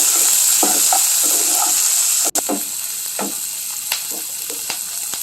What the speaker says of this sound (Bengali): কড়াইতে একটু তেলে আদা কুচি রসুন কুচিটা দিয়ে দেবো। এরপর ক্যাপসিকাম কুচি সব দিয়ে দেবো, পেঁয়াজ কুচিটা দিয়ে দেবো